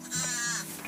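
A single close Blackbelly sheep bleat, a wavering, quavering call lasting under a second, with nothing else around it.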